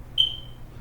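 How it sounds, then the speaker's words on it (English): A smoke alarm gives a single short, high, piercing chirp in an otherwise quiet room with low background hum. "That's a smoke alarm again."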